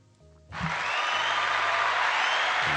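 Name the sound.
applause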